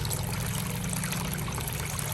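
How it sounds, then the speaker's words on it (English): A small garden fountain used as a drinking bowl trickles continuously at close range, a steady splashing burble with no voices. "Lottie uses this as her little water fountain drinking bowl"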